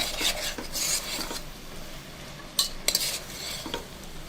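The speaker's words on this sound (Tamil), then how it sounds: "இப்போ இதை நல்லா மிக்ஸ் பண்ணிக்கலாம்." Green chillies and other ingredients being mixed in a pan for a South Indian thuvaram kottai kuzhambu, with light clinks of a spoon against metal and soft scraping in short bursts, a few sharper taps near the end, no talk.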